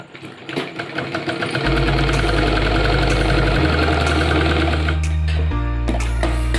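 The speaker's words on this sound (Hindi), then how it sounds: "अब इसको यहाँ पे भी सिलाई लगा लेनी है।" A sewing machine stitching a pant, a rapid steady mechanical whirring and clatter that starts up and runs continuously with slight shifts in pitch, loud and close with no talk.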